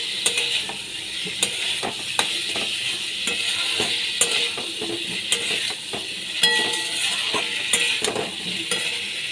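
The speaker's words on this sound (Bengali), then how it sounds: "এবার ওল আর আলু আমি দিয়ে দিচ্ছি" Elephant foot yam and potato stir-frying in a pan sizzle steadily, while a spatula scrapes and taps against the metal in a repeated rhythm; nobody speaks.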